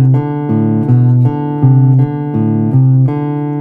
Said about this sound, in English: It sounds like all the notes are ringing out against one another